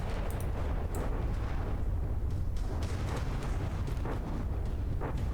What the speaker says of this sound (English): they have a lot of explosive parts in them, so these bombs do pack a proper punch